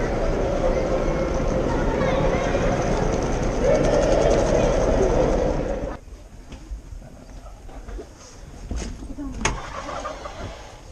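A train at Kazansky railway station in Moscow, bound for Samara: a loud, dense roar fills the first six seconds, then drops to a quieter station ambience with scattered clanks and sharp knocks.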